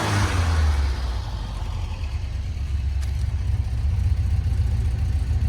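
Engine of a 1967 Alfa Romeo Giulia Sprint GT Veloce, running slightly rich on its carburettors, gets a quick tap of the throttle and then holds a steady, rumbling idle, close and loud with no talking.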